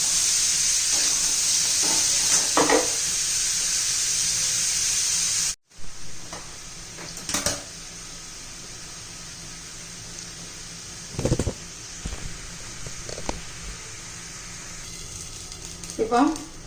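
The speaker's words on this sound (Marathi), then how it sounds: "असं अगोदर परतून घेतले ना तेलामध्ये हळद आणि मीठ घालून" Raw papaya with turmeric and salt fries in oil, a bright hissing sizzle that cuts off abruptly, then quieter cooking with intermittent stirring scrapes and brief talk.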